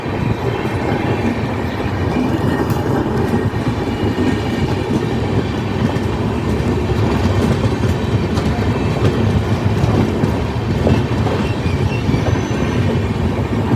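Interior of a moving passenger train on a rail journey toward Kishanganj, a loud continuous rumble with rhythmic clickety-clack of wheels over rail joints and carriage rattle, steady throughout without speech.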